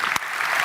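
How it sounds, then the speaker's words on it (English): An audience briefly applauds a conference panel at a digital wellbeing summit, a short burst of dense clapping with one sharp crack near the start. "a round of applause for our panel"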